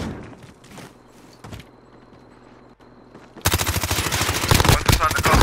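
Gunfire in the Call of Duty Warzone video game. Quiet movement and a few soft knocks come first, then a sudden loud, rapid burst of automatic fire fills the last couple of seconds.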